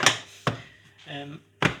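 A wooden chopping block in a kitchen gets set down and turned over, producing a few sharp wooden knocks with a brief voiced sound between them.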